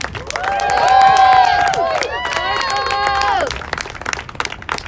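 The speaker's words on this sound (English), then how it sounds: "give it another big round of applause for Lee Camp." A crowd at a political rally in Washington DC applauds and cheers loudly, dense clapping mixed with whoops and shouting voices, swelling and then fading into scattered claps.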